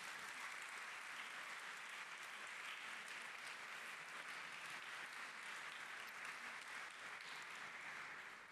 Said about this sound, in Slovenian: si takoj v uvodu zaslužijo naš aplavz z 20-kratno močjo